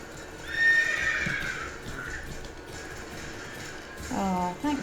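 Roach, Geralt's horse in The Witcher 3, gives a near, loud whinny and then another near the end, with soft hoof clatter and low ambience between.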